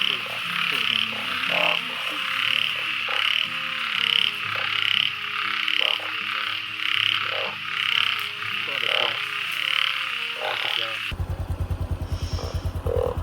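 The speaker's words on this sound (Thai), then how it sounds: "ขากลับพี่น้องระหว่างกลับบ้าน เจอกบข้างทาง เจอกบประมาณ10 กว่าตัวเนาะพี่น้อง" Many frogs croak in a rice field at night during heavy rain, a dense, loud, pulsing chorus that swells and fades in regular waves, ending with a close, rapid rattling croak from one nearby frog.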